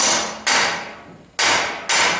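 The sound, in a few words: hammer striking a rusty bolt nut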